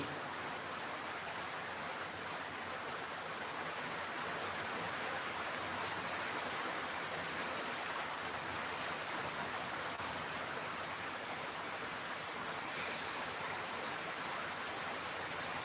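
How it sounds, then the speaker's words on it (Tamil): Heavy rain pours steadily during a night thunderstorm, a dense, continuous hiss at a low, even level with no voices over it. "மழை இப்போ ஃபுல்லாக மழை"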